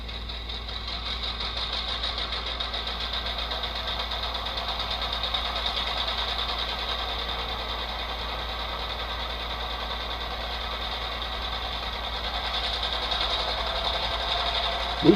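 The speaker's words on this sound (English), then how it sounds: "Okay, this is iPhone 5C. An iPhone" An HO model locomotive sound decoder plays its engine sound through a small iPhone 5C speaker: a steady, continuous mechanical drone with a buzzy, tinny edge, holding an even level throughout with no talking.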